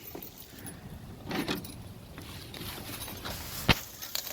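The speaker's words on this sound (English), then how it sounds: "Remember to take my keys out of here so I don't lose them." Keys jangle as they are pulled from the ignition of a 1992 Toyota pickup, a faint metallic rattle with a sharp click near the end, fairly close in a quiet cab.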